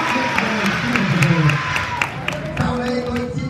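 A round of applause from guests at a celebration, scattered claps and cheering rising under a crowd murmur with voices mixed in throughout.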